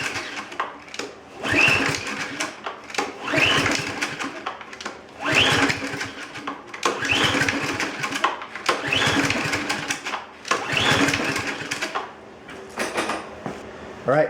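A small engine is pull-started repeatedly by its cord during a compression test, with a gauge fitted, giving about six rhythmic bursts of rope-pull cranking and whirring, close and moderately loud, each separated by brief pauses.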